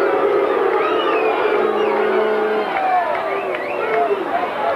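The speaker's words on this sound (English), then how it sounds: "Listen to the crowd." A large crowd at a 1985 Australian football match roars on steadily, a dense, loud stadium din with rising and falling shouts and whistles running throughout.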